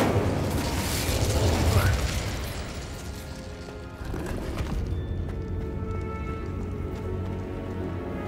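Incendio fire spell cast in Hogwarts Legacy inside a decaying catacomb, a burst of flame crackling and whooshing for a couple of seconds before fading into a steady low rumble of ambience.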